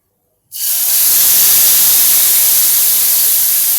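Curry leaves hit hot oil with asafoetida in a pot, setting off a sudden loud, steady sizzle and hiss that carries on evenly to the end.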